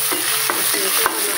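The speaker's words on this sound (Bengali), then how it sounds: "চাপা মাছটা ভাজতে" Chapa fish, a dried fish, frying in a pan in a home kitchen, with a steady hiss of hot oil and a few brief stirring scrapes.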